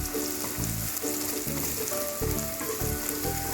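Ginger and green chillies frying in hot oil in a pan, a close, continuous sizzle with crackling and occasional stirring, no voices.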